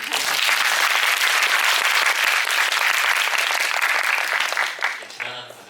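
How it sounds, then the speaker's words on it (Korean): An audience at the Busan International Film Festival applauds loudly and steadily after a film's guest talk, a dense, sustained clapping that fades toward the end. "박수 한번 부탁드립니다"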